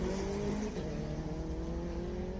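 A Honda VTEC car engine revs steadily at a hillclimb, a sustained droning roar that stays loud throughout, with no voices.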